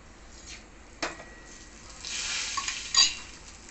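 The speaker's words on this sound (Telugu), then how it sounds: "పోపు వేగిపోయింది" A tempering of dried red chilli, asafoetida, mustard, cumin and fenugreek crackles and sizzles in hot oil in a wok, with a couple of sharp pops and a spoon stirring close at hand.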